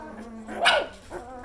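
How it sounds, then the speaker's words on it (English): A newborn puppy being wiped clean with a face cloth lets out a short fussy whine that rises into one brief squeaky yelp, close and fairly soft, with a smaller whimper just after. "They fuss if you take them away from each other there."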